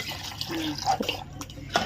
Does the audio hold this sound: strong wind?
no